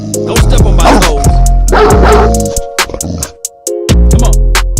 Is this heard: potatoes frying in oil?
no